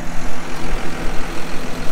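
A 690R farm tractor's engine idles close by, giving a loud, steady low rumble with a gentle rhythmic throb and no one speaking.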